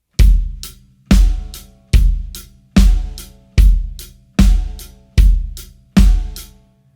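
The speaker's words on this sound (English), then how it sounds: "but we're adding a bass drum on each note this time" Drum kit playing a four-on-the-floor rock groove, bass drum on each beat with hi-hat and snare backbeat, eight steady, punchy hits in an even pulse, loud and near, with nobody speaking.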